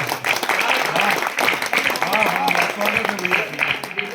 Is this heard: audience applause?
yes